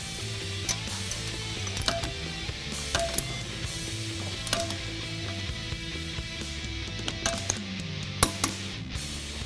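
Metal clicks and ratcheting as the end caps of a Ford Mustang differential (1986-2014 ring and pinion gear set) are reinstalled and tightened down. A series of sharp clicks and taps recurs over a steady low hum, with no talk.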